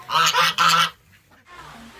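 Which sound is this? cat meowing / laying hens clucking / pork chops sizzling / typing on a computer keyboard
laying hens clucking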